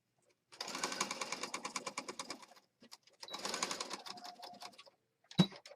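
A sewing machine stitches fabric down close to the edge in two steady, close bursts of rapid mechanical chatter separated by a short pause, ending with a sharp thump.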